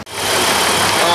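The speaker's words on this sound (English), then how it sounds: "I got the car running." A BMW E36 engine running, a dense, loud broadband roar that starts abruptly and holds steady close by for about a second, with no talk over it.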